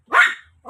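A playful pet dog gives one sharp, close bark, followed by a softer short yip or grumble.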